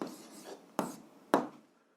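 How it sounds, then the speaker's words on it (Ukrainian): A pen scratches softly on paper while an answer to a seventh-grade algebra exercise is written down, a faint rustle marked by two sharp taps close by. "записуємо відповідь. Пишемо відповідь."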